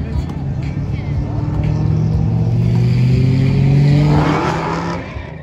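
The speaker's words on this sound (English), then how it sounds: "That was a Hellcat, yeah." A Dodge Hellcat revs hard at a car meet, a loud, sustained engine roar with rising and falling pitch that builds over several seconds and then fades as the car pulls away, with people talking over it.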